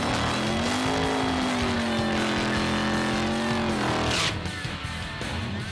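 Super gas Corvette race car engine running loud and close, a steady rumble with rising and falling revs that cuts off sharply near the end, leaving a lower idle.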